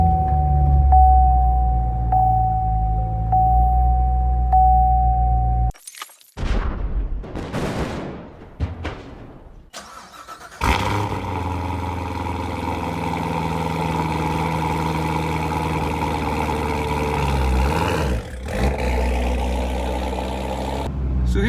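A Chevrolet Corvette Z06 starts with a sharp crank and burst of revs, then settles into a loud, steady, throbbing idle heard up close with no talking.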